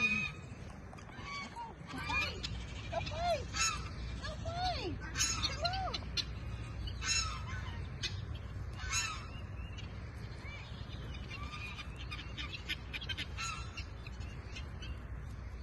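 Geese honk repeatedly at a moderate distance, scattered calls over a steady outdoor background rumble, with a voice speaking briefly at the start.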